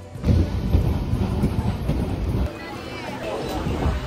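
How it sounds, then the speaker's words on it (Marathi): A train bound for Panvel rumbles and rattles heavily up close as it departs, a low steady roar with clattering throughout, with a voice speaking over it. "आपली आता ट्रेन सुटले"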